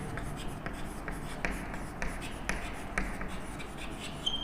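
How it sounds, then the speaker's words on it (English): Marker or chalk strokes on a classroom board during a biology lecture, a steady series of short scratchy taps roughly every half second, close and moderately loud over a low room hum. "here only I am writing class 2"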